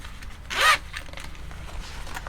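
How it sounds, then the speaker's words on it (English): A zipper on a sewn tote bag is pulled along its track in one quick, close, crisp zip, followed by faint handling noises. "just make sure that your zipper works"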